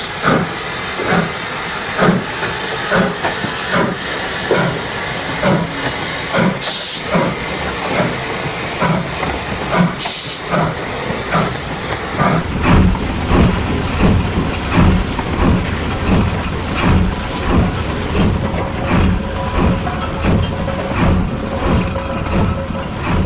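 London Transport pannier tank steam locomotive L90 works at Lillie Bridge depot in June 1971, giving a long, loud stretch of rhythmic chuffing and hissing steam with a steady pulsing beat.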